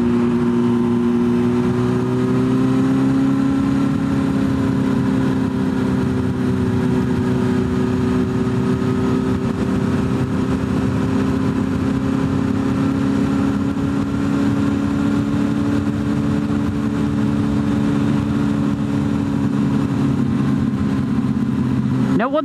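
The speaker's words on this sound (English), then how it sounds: "impressed and just silenced by the joyfulness of this exhaust note" A 2007 Honda 919 Hornet motorcycle with baffles removed from its Delkevic exhaust idles and holds a steady, loud droning exhaust note with strong humming tones, shifting pitch slightly early on, close to the listener.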